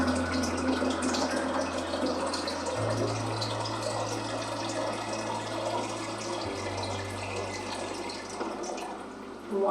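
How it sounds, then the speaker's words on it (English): Tap water poured from a pitcher into the boiling tank of a SteamPure water distiller splashes and trickles steadily, with a low pump-like hum underneath that shifts pitch partway through. "grab your pitcher filled with tap water, and then you're going to pour that into your boiling tank"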